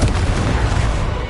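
A Confringo blasting spell from Hogwarts Legacy gameplay, one brief, loud, booming burst that fills the short moment.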